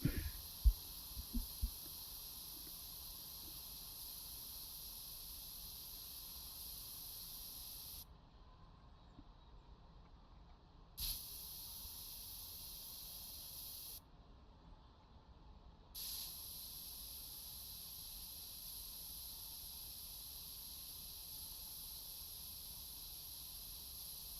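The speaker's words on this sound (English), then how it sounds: "Get our can of spray paint out" Steady hissing spray from a spray paint can in Car Dealer Simulator runs almost continuously, broken by two short pauses, with a few faint clicks near the start.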